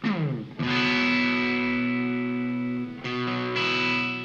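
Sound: guitar through Line 6 Helix Native plugin, extreme flanger

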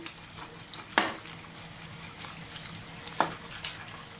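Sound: washing dishes by hand

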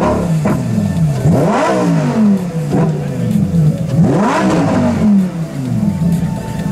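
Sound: Lamborghini Huracán STO engine revving

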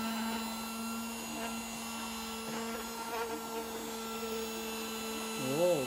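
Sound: small flea market desk vacuum cleaner running

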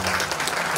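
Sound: applause for a bishop at a church festival

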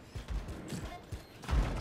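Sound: explosions and gunfire in video game Anthem

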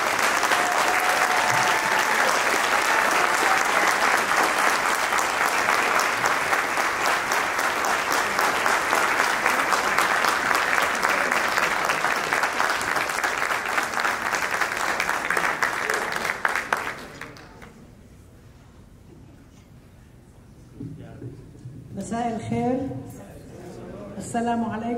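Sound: audience applause welcoming keynote speaker

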